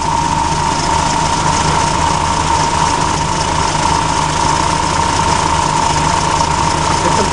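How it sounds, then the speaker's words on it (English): Steady loud drone of the AC compressor running on a 1992 Volvo 244 with a newly fitted condenser fan, a constant engine-bay hum with a strong mid tone and no variation or speech. "The compressor in this thing doesn't sound the happiest, but it's working."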